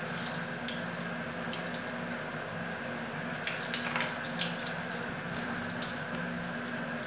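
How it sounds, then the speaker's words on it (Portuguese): A home shower runs steadily, a continuous close hiss of falling water with a faint underlying hum and a few brief splashes, unbroken throughout with no talking. "Agora eu deixei o chuveiro um pouquinho mais frio."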